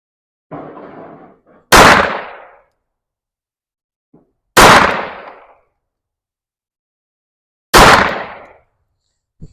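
Three sharp, loud pistol shots from a Staccato C2 fitted with a Steiner micro pistol sight go off outdoors, spaced about three seconds apart, each with a brief decaying echo and silence between.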